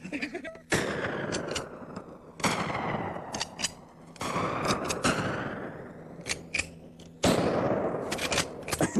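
Repeated shots from a sawed-off shotgun firing slugs, four loud sharp blasts spaced a couple of seconds apart, each followed by ringing echo and clattering, with brief exclamations between them.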